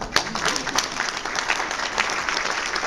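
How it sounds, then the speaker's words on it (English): An audience claps at a speech honoring Dr. Martin Luther King, Jr., with loud, dense applause and a few sharp individual claps standing out, sustained for several seconds. "And if you agree with me, I want you to clap."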